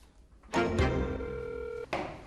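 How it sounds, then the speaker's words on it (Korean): A telephone call being placed that fails to connect: a soft click, then a steady ringing or signal tone held for more than a second before another click, with a short burst of noise at the end and no talking. "전화 연결이 되지 않자"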